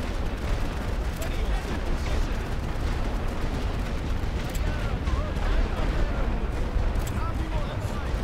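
Artillery guns firing in The Great War: Western Front video game, a dense continuous rumble of booming fire and explosions with no gaps, loud and steady, with a voice faintly mixed in.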